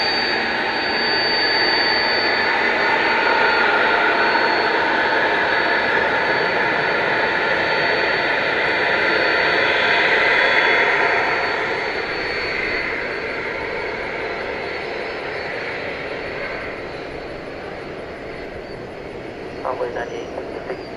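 A jet airliner arriving from Miami at DFW Airport at night gives a steady, loud broadband roar that swells and slowly fades, with someone talking over it.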